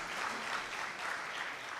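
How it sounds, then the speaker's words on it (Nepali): Brief burst of steady applause from an audience at a book launch event in Nepal, faint and distant, even clapping without pauses. "कृपया जोरदार ताली"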